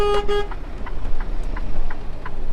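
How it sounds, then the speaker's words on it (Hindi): A truck horn gives two quick honks before the truck reverses in a yard during a snowy winter trip, then the engine idles with faint, scattered squeaks and clicks. "सबसे पहले आपका रूल है आपको 2 बार हॉर्न दबाना है"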